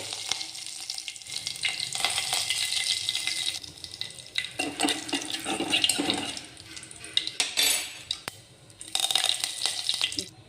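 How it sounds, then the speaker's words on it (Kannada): Curry leaves hitting hot oil in a mustard seed and cumin tempering, loud crackling sizzles in bursts with quieter gaps between, close and alone. "ನೋಡಿ ಇದಿಷ್ಟೇ ಒಗ್ಗರಣೆ, ಏನಿಲ್ಲ."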